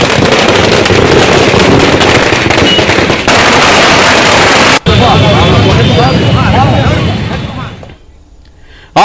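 Over a hundred AIADMK party workers set off firecrackers at a celebration outside the party office in Dharmapuri. A loud, dense crackling barrage runs nearly nonstop, with crowd voices mixed in, then drops away sharply near the end.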